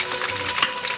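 Scallions frying in a hot pan for a salmon head rice soup, a brief close sizzle with crackle and a single sharp tap partway through.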